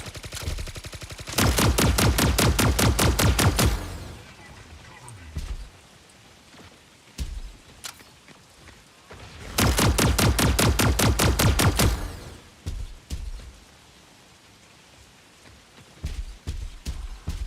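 Rapid bursts of automatic gunfire from shooting in a video game, two sustained loud volleys of a couple of seconds each separated by quieter gameplay sounds and scattered single shots.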